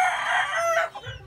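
A rooster crows once, loud and close, in a farmyard full of hens and roosters, the call trailing into a few soft clucks.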